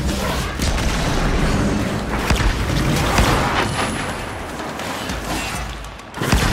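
A Void Blast ability fired in Warframe's Sacrifice quest lands as a heavy, booming burst amid rumbling impacts and thuds, loud and sustained, with a sharp surge near the end.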